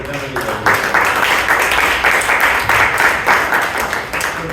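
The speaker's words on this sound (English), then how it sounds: "Give a big round of applause for the general evaluation." An audience at a Toastmasters meeting in Bangalore bursts into loud, sustained applause, a dense wash of many hands clapping close by that carries on without pause for several seconds.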